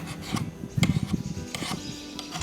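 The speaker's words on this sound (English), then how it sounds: "Just want to file her down." A metal file rasps against the edge of a tool blade in several short, uneven strokes, close and fairly quiet.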